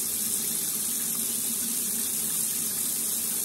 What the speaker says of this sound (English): I'm just going to wash it in cold water that I'm running at the minute.